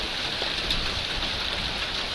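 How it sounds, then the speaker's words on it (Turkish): Heavy downpour with sudden hail in a street in Bozcuk, Bilecik: a dense, steady hiss of rain pounding surfaces, loud and continuous, with no voices. "aniden bastıran dolu ve sağanak yağış nedeniyle cadde ve alt geçit suyla doldu"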